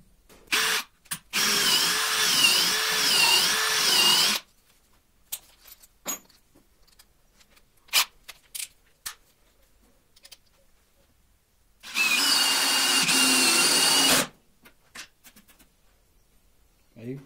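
A DeWalt DCD7771 brushless drill driving a long screw into wood, in two bursts of high whirring a few seconds each, with clicks and handling noises between.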